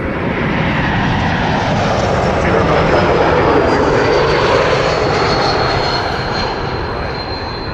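Airplane at Toronto Pearson airport, a loud, steady broadband engine roar holding for the whole stretch with a faint rising whine on top, close and continuous.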